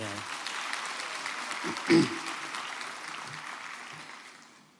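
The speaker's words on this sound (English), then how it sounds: "can you give yourself a round of applause" A crowd at a university graduation ceremony claps steadily for a few seconds, the applause fading gradually, with a voice briefly audible over it.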